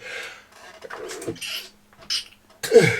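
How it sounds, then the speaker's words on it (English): A few sharp, breathy bursts separated by brief gaps, ending in a loud explosive sneeze-like blast. "I hate sneezing, it's horrible"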